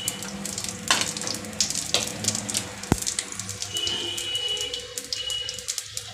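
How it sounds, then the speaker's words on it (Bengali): Onions frying in a pan with bay leaves and whole cumin: a close, crackling sizzle full of rapid pops, with occasional stirring scrapes and one sharp metallic clack midway. "পেঁয়াজগুলো ভেজে নেব।"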